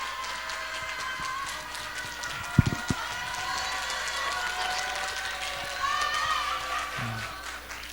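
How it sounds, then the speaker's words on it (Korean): A church congregation at a Sunday afternoon service applauding as a preacher is called up, a steady wash of clapping from a crowded room, with a few louder bumps partway through. "박수 한번 쳐주시기 바랍니다"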